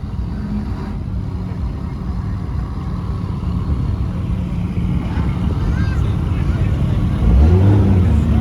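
A car rolls out at a Ferrari and Porsche meet, its engine rumbling low beneath crowd noise and a nearby voice, swelling louder near the end as it pulls closer.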